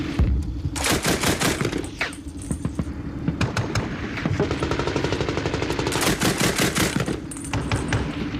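Machine gun fire in combat in Afghanistan: sustained bursts of rapid automatic shots, loud and fairly close, stacked with overlapping volleys and scattered single gunshots, continuing for most of the stretch with brief gaps.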